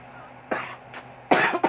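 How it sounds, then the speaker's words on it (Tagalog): A person coughs a few times, short harsh bursts close to the microphone with brief gaps between them, no speech. "Tignan mo may ubo pa ako."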